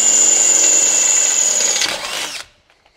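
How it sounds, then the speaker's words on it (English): A power drill whines at high speed drilling a hole in a Jeep's steel frame, a steady piercing tone for about two seconds before spinning down and stopping. "I can actually drop the skid plate out of the way and drill that"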